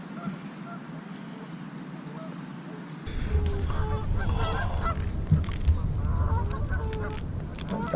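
Canada geese honk loudly and repeatedly, a raucous chorus that starts suddenly after a few seconds of quieter outdoor ambience while bass fishing on murky water.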